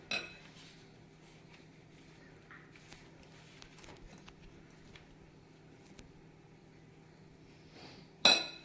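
A knife clinks against a plate while cutting through a kulcha flatbread in a home kitchen, with faint soft taps scattered through the quiet and one sharp, louder clink at the end.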